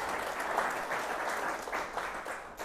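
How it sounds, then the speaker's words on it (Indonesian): A church congregation claps after a sermon, producing a brief, dense burst of applause with no voices over it. "Berikan tepuk tangan bagi Yesus."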